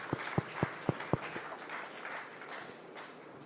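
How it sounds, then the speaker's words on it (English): A few sharp claps at a Constitution Day ceremony at UPSIFS Lucknow as a guest is welcomed, spaced about a quarter second apart, then fading into a soft, diffuse wash of scattered clapping and room noise. "Please give a huge round of applause"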